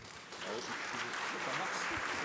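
Conference audience applauding, a dense, steady patter of clapping that swells slightly and holds for a couple of seconds.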